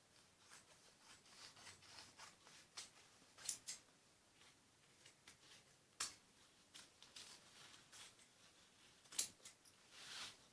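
Scissors snipping away excess fabric from a padded blouse piece, quiet scattered crisp cuts at irregular intervals with soft handling rustle between them.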